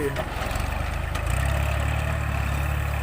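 A Kubota L3608 tractor's diesel engine runs steadily with a low, even chugging throb close by, as the tractor works dry paddy soil.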